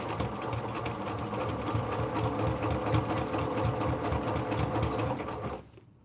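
Sewing machine stitching a pillowcase with French seams, a close, steady rapid chatter of the needle mechanism that runs for several seconds and then stops abruptly.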